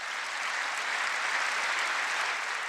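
Sustained applause from a large audience in the Congress chamber during the 2018 State of the Union, a steady even roar of many hands clapping with no speech.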